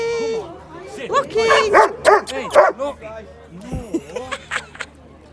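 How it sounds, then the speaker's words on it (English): A dog at a street demonstration in Rochdale gives a few short yips and barks amid crowd babble, with people talking close by. "Oh, that dog's ace."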